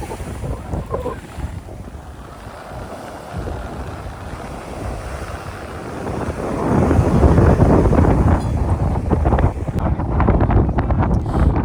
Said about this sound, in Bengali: এখানে সমুদ্রের মারাত্মক লেভেলের হাওয়া চলছে